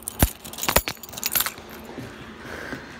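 A set of keys is picked up and jangles in a quick burst of sharp metallic clinks up close, then settles into quiet handling noise.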